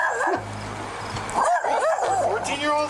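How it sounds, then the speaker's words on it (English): A dog barks and yips in short, whimpering bursts during a police bodycam encounter, heard under overlapping close talk. "Oh, that's a dog."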